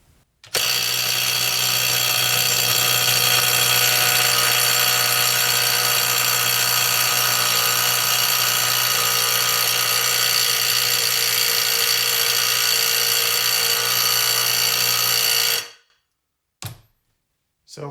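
Harbor Freight Hercules cordless impact wrench straining against a 170 foot-pound fastener: a loud continuous high-pitched whirring hammer run lasting about fifteen seconds, then cutting off, followed by two short bursts.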